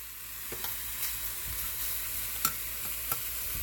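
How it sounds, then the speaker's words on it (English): Onions for a beefy sub sandwich sizzle in a hot pan, a steady low crackle broken by a few sharp clicks of a utensil against the pan. "I'm just going to drop these onions right in like this"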